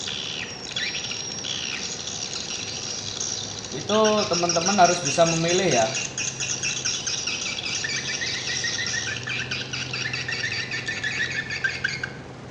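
Recorded swiftlet calls played back for a bird farm, giving rapid high chirps and twittering that rise over a faint hiss, with someone speaking over part of the sequence.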